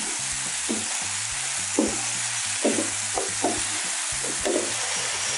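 Silk squash pieces with salt and turmeric stirred in a pan for chutney, a soft steady sizzle under repeated scraping strokes of a spoon against the pan, close by and without speech.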